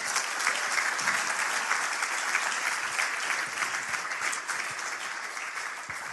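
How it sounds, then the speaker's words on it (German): A crowd gives a strong round of applause, dense and continuous from start to finish and fading only slightly as it goes on. "Gib ihm mal einen kräftigen Applaus."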